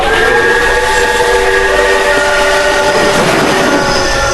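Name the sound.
train arriving in a horror video game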